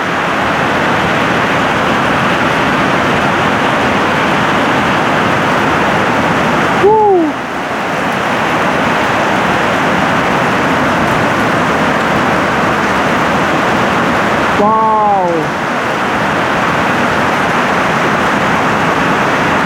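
Steady, heavy broadband rush of pouring rain, dense and unbroken, with two brief voiced sounds briefly breaking through.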